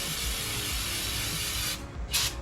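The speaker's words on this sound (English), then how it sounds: "Just gonna spray it on a cloth" A steady, close hiss of brake parts cleaner sprayed onto a cloth runs continuously, cutting out briefly and then giving one more short burst.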